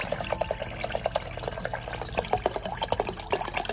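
Water poured into a container holding crystals, a steady close trickle with small splashes and drips running throughout, moderately quiet, no speech.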